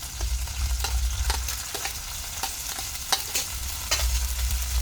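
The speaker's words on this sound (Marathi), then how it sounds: "आता यांना छान परतून द्यायचं, कांद्याचा कलर तांबडा होतोपर्यंत।" Chopped onion and tomato with cumin sauté in a pan for chicken masala, a steady sizzle broken by regular scraping stirs of the spoon, close and fairly loud.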